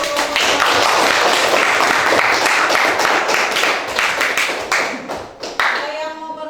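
A classroom of students claps for a group that has just finished presenting, with loud, dense applause running steadily before thinning out toward the end.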